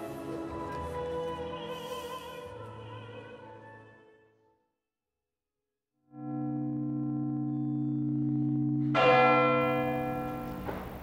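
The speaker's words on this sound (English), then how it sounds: "They toll for justice and a new era. 96 bells to mark 96 lives." Church bells toll in a memorial peal of 96 bells for 96 lives, long ringing tones sustained, fading to a few seconds of silence, then the bells resume and swell louder with more strikes layered in.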